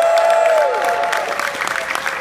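A crowd at a professional wrestling convention kickoff in Orlando gives a round of applause that is loud and full, with a little cheering mixed in, fading slightly as it goes on.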